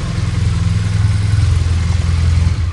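A 1981 Honda CM400C motorcycle engine idles steadily and close by, its exhaust giving a low, throbbing putter with no other sounds.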